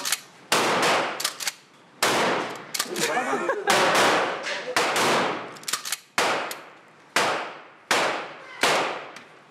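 Handguns in .38 and .45 calibre plus a small magnum fire at a shooting range, a series of about a dozen loud, sharp reports with echoing tails, spaced irregularly roughly every half second to a second.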